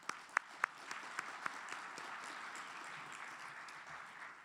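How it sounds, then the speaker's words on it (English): A conference audience claps for a smart city panel, with a few sharp early claps swelling into steady, moderately distant applause that carries on throughout. "let's give our panel a round of applause"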